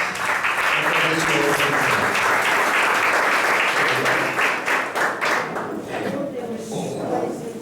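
A standing church congregation claps enthusiastically in a steady dense roar that thins into scattered claps toward the end, with voices faintly mixed in.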